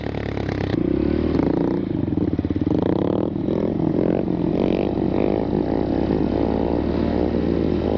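Honda Grom motorcycle engine at an outdoor stunt meet during wheelies, a loud close buzzy single-cylinder drone held steady with throttle swells and some rattling clatter throughout.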